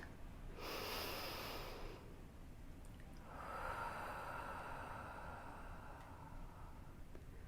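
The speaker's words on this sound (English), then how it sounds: "Take in a few slow," Slow, deep breaths drawn in a quiet room during a guided meditation: a long breathy inhale followed by a pause and a softer, drawn-out exhale, close and unhurried with no talking.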